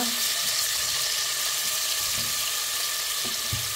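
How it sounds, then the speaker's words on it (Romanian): Onions fry in a pan with a continuous close sizzle and crackle, broken by a few soft clinks of stirring and no speech. "Mai prăjim un pic, nu foarte mult să ardem."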